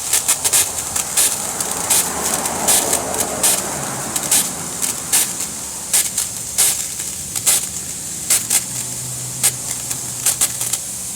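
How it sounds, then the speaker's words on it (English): Air hisses steadily out of a hose reel being charged, joined by repeated short, sharp bursts of hiss and a low hum near the end. "Oh, it's just blowing out of the hose reel."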